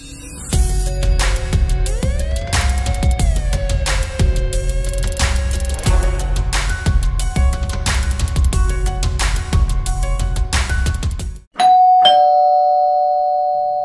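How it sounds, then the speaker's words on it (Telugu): A doorbell chimes loudly, its tones standing out at the end after a long stretch of dense music, with no voices. "calling bell మ్రోగేసరికి"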